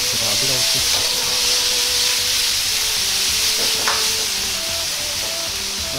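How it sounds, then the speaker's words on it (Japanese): Daikon radish stir-frying with canned tuna in oil in a pan, giving a steady loud sizzle and hiss throughout with occasional stirring clatter, and a voice talking underneath. "大根の表面がこんがりと焼き色がつくまで炒めていきます。"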